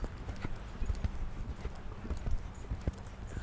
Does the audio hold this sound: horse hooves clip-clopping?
yes